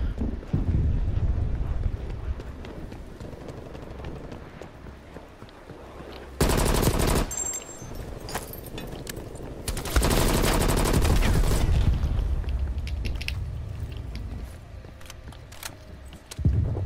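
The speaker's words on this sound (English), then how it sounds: "Let me shoot one." Bursts of rapid automatic gunfire in Call of Duty Cold War, two loud sustained volleys separated by quieter windy, rumbling battlefield noise, with a final short burst at the end.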